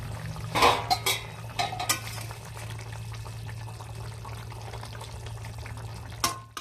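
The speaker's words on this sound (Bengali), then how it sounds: "ঢাকনাটাকে নামিয়ে দিচ্ছি।" A pot lid clatters off a pan of Bengali-style rohu fish curry with a metallic clank near the start, followed by a steady low kitchen hum and a second brief knock toward the end.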